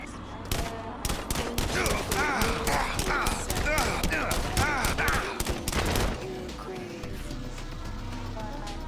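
Rapid video-game gunfire from a weapon loaded with Teflon-coated rounds, loud dense bursts of shots for about six seconds over game music and effects, then the shooting stops and only a lower background hum remains.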